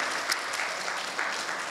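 Audience applause at a Korean motivational speech event, a dense, even wash of many hands clapping continuously and fairly loud, with no voices over it.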